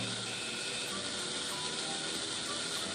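Steady mechanical whir of a small motor on a Bluetooth-controlled robot at slider-set speed, a continuous gear-like rattle and hiss heard close up without talk.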